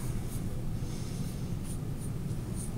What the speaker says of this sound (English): grab my Sharpie. I'm going to trace it.